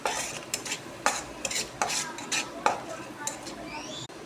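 A spoon stirs masala into fried onions in a pan for an egg varuval, producing repeated sharp scrapes and clinks roughly every half second over a low, soft sizzle.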